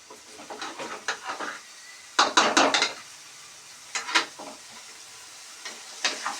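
An egg curry is stirred in a pan, the spoon scraping down to the bottom in several loud bursts over a soft, steady sizzle, with short quiet gaps between the strokes.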